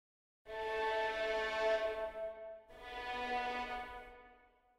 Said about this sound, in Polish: A drugim są stringsy, które brzmią w ten sposób.